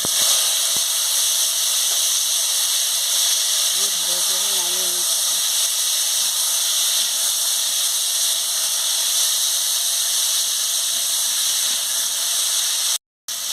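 Pieces of cut raw mango go into a hot pan for chutney, setting off a loud, continuous sizzling hiss close by, with a faint voice briefly underneath.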